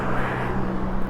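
A small car with a loud, faulty muffler rumbles steadily nearby, a dense continuous engine drone filling the short stretch of a city street walk.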